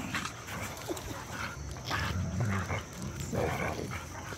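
A dog squeals and whimpers in short bursts while playing with a pack of dogs, amid a steady background rumble, with other dog noises mixed in nearby.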